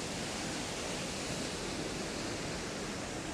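Steady roar of Paddy's River Falls near Tumbarumba, New South Wales, heard from atop the falls: a broad, unbroken rush of water filling the whole clip, even and constant with no other sounds.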